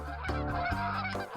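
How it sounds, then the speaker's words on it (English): Honking from a noisy flock of geese passing overhead, a sound effect in a visual novel game, with dense overlapping calls that stay loud and continuous throughout. "A flock of geese passed over us, noisy and energized."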